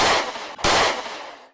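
A gun fires in a VR shooter game, with two loud, sharp bursts split by a brief gap and each trailing off into a noisy decay, heard close up and without speech.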